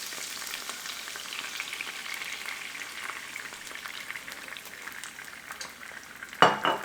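Seared scallops sizzle and fry loudly in a pan as a cup of white wine goes in, a steady crackling hiss with a sharp burst of spatter near the end.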